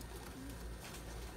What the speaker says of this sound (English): We've got several groups of birds that are leaving the loft for about 10 minutes or so and then coming back.